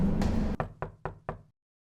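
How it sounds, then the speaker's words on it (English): Knocking in the Five Nights at Freddy's fan horror game Fredbear's Rising Reboot: a rumbling noise cuts off, then four evenly spaced, fairly loud knocks follow, each ringing out briefly before silence. "See, a knock again."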